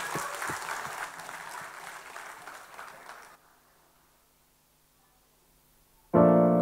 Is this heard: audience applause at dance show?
yes